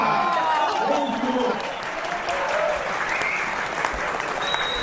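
Applause from an audience at an MBL political event fills the space, a dense, steady wash of clapping held at constant loudness, with crowd voices and talk mixed in beneath it.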